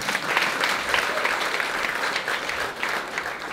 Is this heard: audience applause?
yes